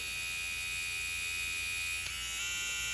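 BaBylissPro FlashFX cordless hair trimmer running at its 6,000 RPM setting, a steady high-pitched electric buzz held close and continuous throughout, with no talking.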